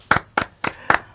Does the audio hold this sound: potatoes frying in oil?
no